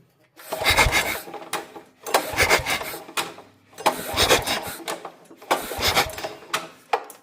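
A starter cord is yanked four times on a generator more than seven years old that has a leaking valve, each pull bringing a rough, rasping burst with an air hiss, spaced about every two seconds, close to the mic.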